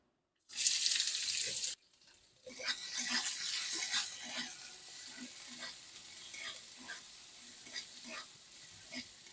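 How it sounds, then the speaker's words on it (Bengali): A large chopped onion drops into hot oil already tempered with spices, giving a loud hiss at first. The oil then settles into a steady sizzle broken by close scraping and clinks from stirring. "পেঁয়াজগুলো হালকা করে ভেজে নেব"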